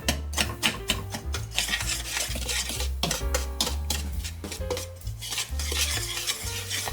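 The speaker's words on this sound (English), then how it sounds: "I'm just going to mix that together and break up those sugars." Dry muffin ingredients (spices, baking powder, baking soda, salt and sugar) being stirred together in a bowl, a steady scraping and clinking of utensil against the dish, with soft background music and no talk.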